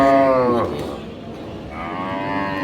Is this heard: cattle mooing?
yes